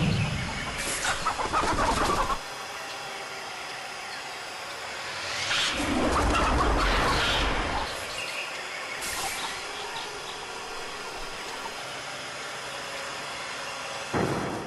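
Birds perched on a thin branch in South America, caught by a boa constrictor, give bursts of agitated calling and flapping at the start and again midway, with quieter stretches between.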